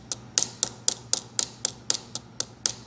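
Sharp metallic taps from a hammer striking a wire tip to sharpen and lengthen it, about ten evenly spaced, crisp, close knocks in a steady rhythm with no talk.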